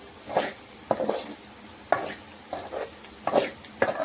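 Beans and carrots stir-fried with sesame seeds in a pan, a spatula scraping and tossing them in several distinct strokes over a soft, steady sizzle, close and moderately loud with no talk.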